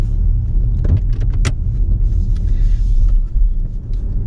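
Audi e-tron 50 electric car with 313 hp pulling away, heard from inside as a low, loud rumble of road and cabin noise with a few small clicks and knocks.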